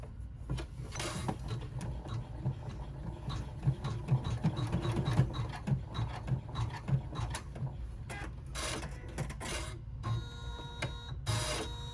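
An embroidery-style sewing machine tacks down a small doll rucksack, a close mechanical clattering and whirring with rhythmic stitching taps and occasional sharper clicks throughout.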